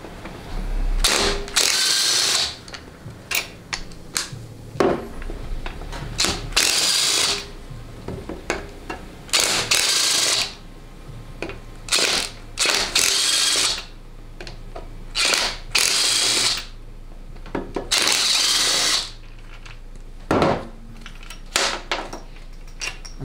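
An impact wrench with a worn friction ring works 13 mm pump bolts out of a 700R4 transmission case, firing repeated loud rattling bursts of a second or so each, separated by short pauses and clanks of metal.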